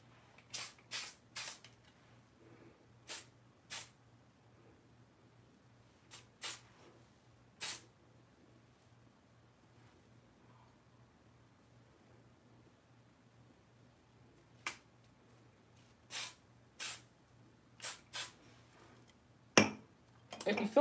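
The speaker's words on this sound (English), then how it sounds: "Hit up the perimeter with the melt me down spray." Melt spray is misted around the perimeter of a lace wig during a bob install: about fifteen quick, sharp hissing bursts, some in rapid pairs and triplets, separated by near-silent pauses over a low steady hum.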